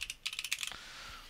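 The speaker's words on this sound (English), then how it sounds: "So I'll type in my market name there." Keys on a computer keyboard being typed in a quick burst of about a dozen close, crisp clicks over roughly three quarters of a second, then quiet.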